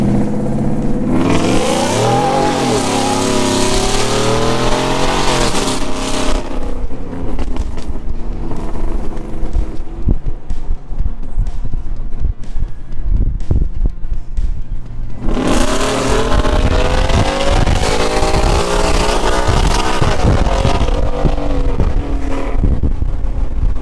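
A 2016 Mustang fitted with an Odin supercharger revs hard and loud, with rising engine roars at the start and again after a brief lull, the whine and bark sounding close and continuous.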